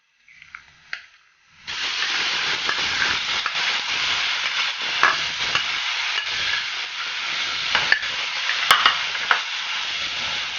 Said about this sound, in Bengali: পেঁয়াজ আর মরিচ যখন খুব সুন্দরভাবে ভাজা ভাজা হয়ে যাবে তখন এর মধ্যে আমি বেগুনগুলা ঢেলে দেব।